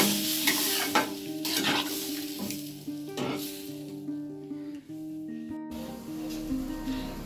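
Dal and vegetables stirred and simmering in a pan for sambar, with a spoon scraping and clinking in bursts over a steady sizzle, close and fairly loud with no speech.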